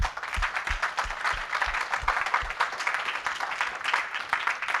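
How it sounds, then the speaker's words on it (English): A conference audience gives a round of applause for volunteers, sponsors and the AV team, producing steady, dense clapping throughout with a few sharper low thumps mixed in near the start. "If we can give them a round of applause."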